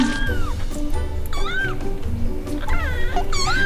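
A cat meowing repeatedly, several drawn-out rising and falling meows and caterwauls, loud and close over a steady background hum.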